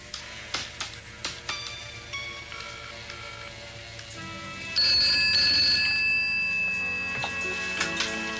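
A telephone rings with repeated electronic trills in a TV drama scene, clear and close, with faint ticking and music underneath and no talk.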